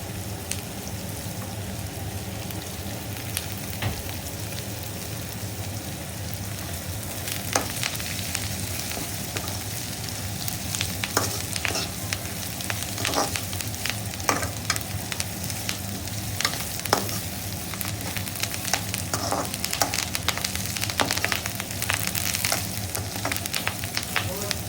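Onion and curry leaves frying in oil in a pan, a continuous crackling sizzle with scattered sharper pops that grow busier partway through.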